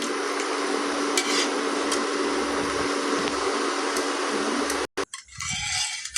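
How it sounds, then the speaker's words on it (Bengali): A spoon stirs hot milk in a pot to cool it, giving a steady scraping and swishing that carries on at close range before breaking off briefly near the end. "দুধটা ঠান্ডা করতে দিয়েছি, একটু ঠান্ডা হবে, নেড়ে চেড়ে ঠান্ডা করে নিচ্ছি 10 মিনিটের মতন"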